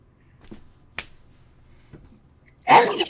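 A single sharp sneeze bursts out near the end, loud and close, after a few soft clicks and taps in an otherwise quiet room.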